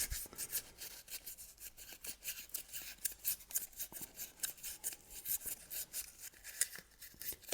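Rust is scrubbed off the brake caliper pistons of a Honda CB500X, likely with sandpaper, in quick, close, rhythmic scratching strokes that stay fairly quiet and continue steadily throughout.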